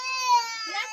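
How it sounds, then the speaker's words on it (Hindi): A baby cries with a short, high, wavering wail, loud and close, heard on its own during a family hotel stay in India. "ये बच्चा रो रहा है"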